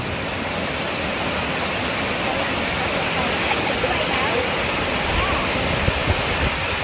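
A waterfall pours in a loud, constant broadband rush of water, steady and close throughout.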